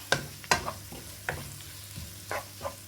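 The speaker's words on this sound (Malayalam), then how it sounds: "ഇടയ്ക്കിടയ്ക്ക് ഇളക്കിയിട്ട് നന്നായി വഴറ്റിയെടുക്കുക" Sliced onions softening in a pan over medium-low flame for fish podimas, stirred in several distinct scraping strokes over a low, continuous sizzle, close and clear with no talk.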